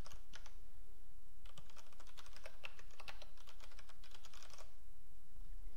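Code is being typed on a computer keyboard, with bursts of quick, light key clicks, some steady runs and short pauses, near and moderately quiet over a faint low hum, and no voice.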